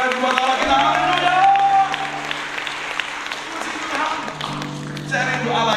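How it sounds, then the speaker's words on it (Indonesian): Congregation at a church service clapping together in sustained, dense applause, with music playing and a voice speaking over it throughout. "Mari tepuk tangan sekali lagi buat Allah kita."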